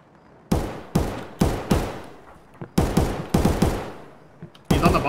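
Bursts of gunfire in the Escape From Tarkov shooter game at the Interchange map: about nine sharp, loud shots in uneven clusters, each with a short decaying tail, heard alone without talk.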